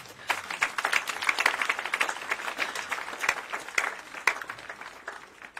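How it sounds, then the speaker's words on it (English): Applause from a gathering for a cardinal at a church anniversary celebration, scattered crisp claps that build into a moderate, irregular patter, fairly close and alone without talk. "Let's clap for him."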